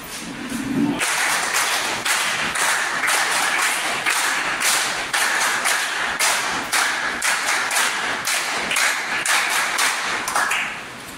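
A gathered group at a district education office visit gives a rhythmic clapped welcome: loud, tight bursts of many hands in a repeating pattern, continuing steadily for several seconds.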